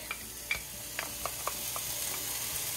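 Onions frying in a pan as minced garlic goes in for a Three Sisters soup, giving a steady soft sizzle with a few light clicks and stirring taps near the start.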